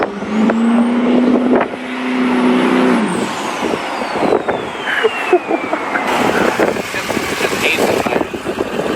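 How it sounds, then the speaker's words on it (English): Duramax diesel pickup truck accelerating on a highway, a loud sustained engine and road roar with a rising turbo whistle, heard from inside the cab. "Just cruising on the highway, rolling into the throttle."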